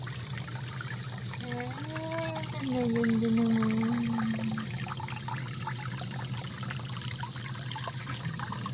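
A small fountain trickles and pours with a steady, close wash of running water, while a voice says a few words over it midway and a faint melodic tone drifts in the background.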